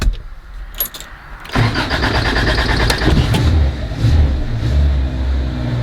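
A 1979 Honda Civic with a carbureted engine cranks briefly when cold, then catches and settles into a loud, uneven idle close by.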